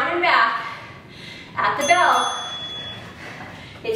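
A single bright bell ding marks the change of exercise in a home workout session, ringing out once and sustaining faintly amid spoken instruction.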